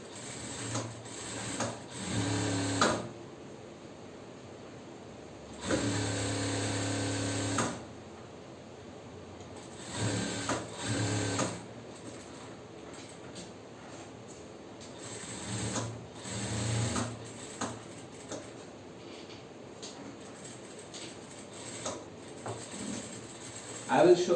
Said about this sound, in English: belt we have to stitch from the opposite direction